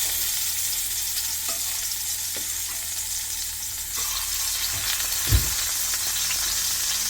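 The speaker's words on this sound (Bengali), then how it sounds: "তেল গরম হয়েছে, মাছ দিব।" Frozen fish frying in hot oil in a home kitchen: a steady, loud sizzle and crackle throughout, with a few soft knocks and a louder thump near the end.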